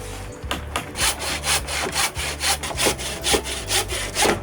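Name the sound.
hand sawing wood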